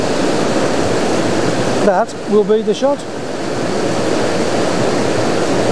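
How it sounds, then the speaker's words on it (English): Steady, loud roar of rushing white water from a river or waterfall fills the scene, while someone speaks briefly over it. "I'm loving the white water leading up and through the scene"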